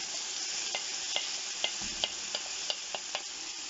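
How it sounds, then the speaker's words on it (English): Onions and garlic frying in a pan with a little leftover fat, a steady close sizzle broken by regular scraping taps of a spoon stirring, about two per second. "So I'm going to add my onions and my garlic."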